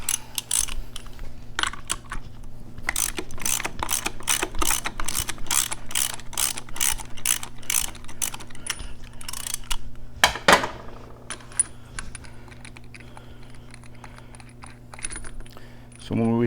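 A 1/2-inch ratchet clicks in rapid bursts while loosening the primary nut on a Harley-Davidson Sportster, with a steady mechanical hum behind it and a few clinks of metal near the end.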